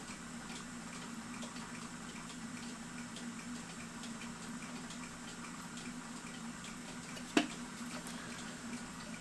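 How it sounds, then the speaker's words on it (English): Running water streams steadily from a tap while clock plates are hand washed beneath it, a constant close wash with one brief clink near the end and no talking. "These here plates I'm gonna hand wash"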